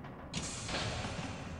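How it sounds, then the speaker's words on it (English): A door shuts in the video game Outlast, a faint grinding, creaking mechanical movement that rises suddenly and then holds as a low rumble. "Did the door shut behind us?"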